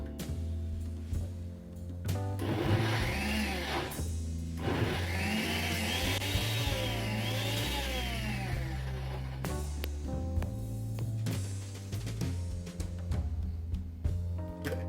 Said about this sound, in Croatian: Po zvuku se čuje da masa nije baš najbolje nalegla u blender